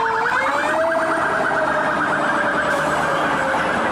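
A toy fire truck's electronic siren wails continuously, loud and close, with a steady warbling tone.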